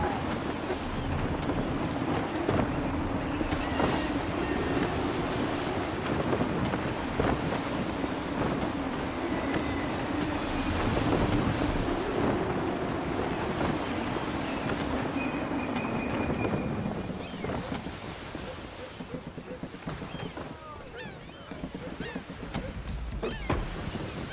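A sailing ship in Assassin's Creed III ploughs through ocean waves under gusty wind, a steady rushing roar of wind and water that eases slightly toward the end, with no talk.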